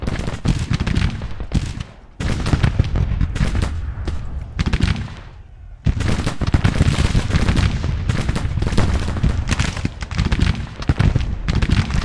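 Rifle volleys from Civil War soldiers in the Grand Tactician strategy game crackle in dense, continuous rolling bursts, loud and close, with a brief lull near the middle before the heavy firing resumes.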